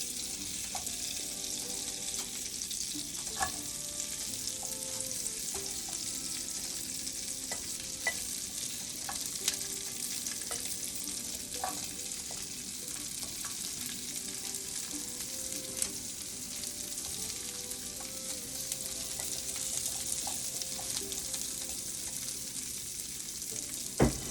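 Asparagus frying in a hot skillet, a continuous bright sizzle with occasional sharp pops and crackles, close and steady for the whole stretch, with no talking.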